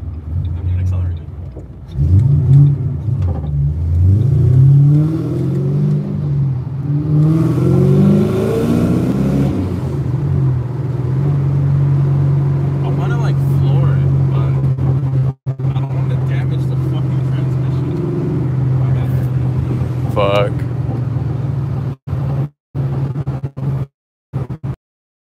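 A supercharged Ford Mustang's engine revs hard and climbs under full boost, then holds a steady droning roar at speed, with loud excited talking over it throughout.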